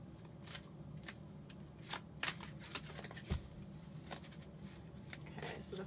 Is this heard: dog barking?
no